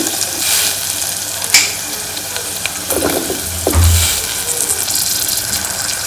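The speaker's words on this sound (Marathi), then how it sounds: "तेल सुटस्तवर आपण त्याला परतायचं आहे." Onion and tomato sautéing in oil and spice masala for a lentil curry, a loud, continuous close sizzle with occasional stirring scrapes and a brief low thump.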